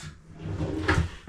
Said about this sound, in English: take the drawer front off that